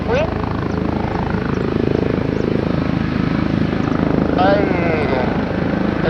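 Neymar Jr.'s helicopter, registration PP-NJR, drones with a steady rotor and engine roar close by, filling the whole stretch while a voice speaks briefly over it.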